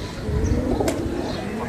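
Domestic pigeons kept by a hobbyist, cooing close by with a brief burst of wing flutter partway through, under a low outdoor rumble.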